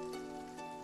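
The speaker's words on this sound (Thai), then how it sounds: "ฝนตกเหรอ" Steady rain falls in a scene from the Chinese costume drama Love and Destiny, a soft, even hiss that spreads across the whole moment, with faint tonal music threaded underneath.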